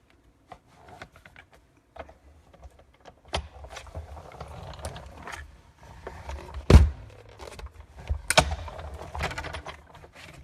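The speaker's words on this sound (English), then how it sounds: "be sure and hold that top handle when you're cutting with your Big Shot" A Big Shot die-cutting machine is cranked to cut a card for a birthday design, with scattered mechanical clicks and clunks, a grinding roll, and a sharp loud thunk midway, followed by more handling noises.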